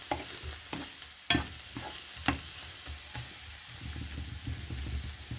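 Eggs and vegetables with peppers cooking in a pan, gentle sizzling under a few sharp knocks and scrapes of a utensil stirring, close and unaccompanied by speech.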